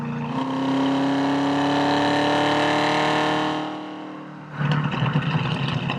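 A 1967 Ford Mustang restomod engine revving hard and climbing steadily in pitch, loud and close, easing off briefly, then picking back up into a rough, burbling rumble.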